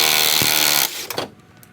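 A wrench spins off the top strut nut of a Pontiac G8 with a loud, close, power-tool-like whir that cuts off after about a second, followed by a few metallic clatters.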